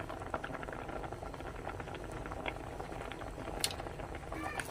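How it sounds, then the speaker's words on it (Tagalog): A pot of vegetable soup bubbles at a steady simmer, with constant soft gurgling and occasional small pops, fairly quiet and close. "kumukulo na"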